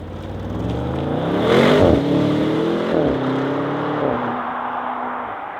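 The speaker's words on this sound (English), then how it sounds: "that car absolutely smashed into its limiter without any issues whatsoever" An Audi RS7 Performance accelerates hard up to its rev limiter, the engine note climbing loud and close through several gear-like steps before settling into a steady, held drone.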